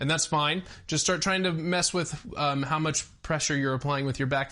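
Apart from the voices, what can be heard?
None of the usual background noises is heard.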